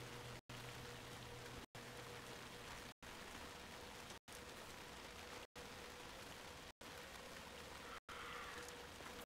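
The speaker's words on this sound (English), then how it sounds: "it's just raining. Beautiful rain effects." Rain falls at night in the video game Alan Wake 2, a faint, steady hiss of drops on surfaces with no voices, broken by brief, evenly spaced silent gaps.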